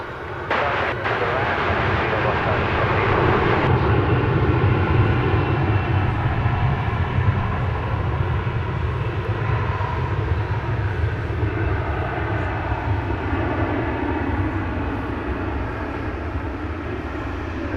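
An American Airlines jet takes off at DFW Airport at night, a loud sustained engine roar that swells and holds steadily, heard from the ground at a moderate distance.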